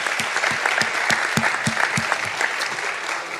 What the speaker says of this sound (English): let's give a round of applause for the sponsors who made this night possible.